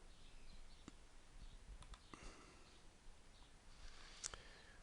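Several sharp mouse clicks spaced over a few seconds while navigating a basic website's home link, faint and close against a quiet background hiss.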